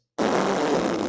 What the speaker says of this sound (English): if we close them together and get them to sputter like this,